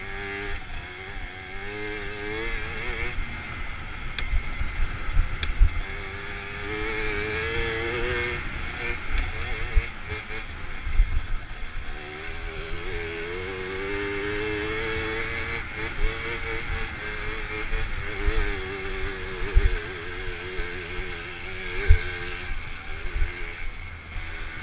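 Small two-stroke engine of a Garelli Gulp moped overtaking on a downhill road, a steady buzzing drone with shifting pitch and wind rumble, continuous for the whole stretch with no talk.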